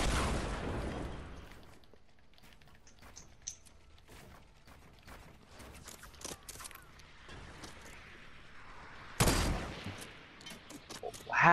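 An enemy fires at the player in Fortnite, with scattered distant gunshots under low ambient noise and louder sharp bursts near the start and again toward the end.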